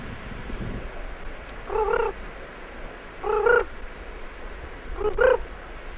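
Three short frog croaks ring out at spaced intervals over a quiet outdoor background on Graham Island, Haida Gwaii, fairly close and distinct.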